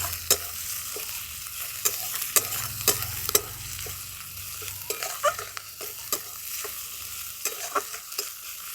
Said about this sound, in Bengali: সব মশলাগুলো খুব ভালো করে কষিয়ে দিচ্ছি।